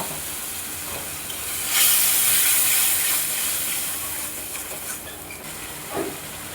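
A splash of water poured onto hot ground spices in a pan sets off a loud, steady hiss and sizzle that swells sharply, then settles into a softer continuous bubbling, close and alone without talk.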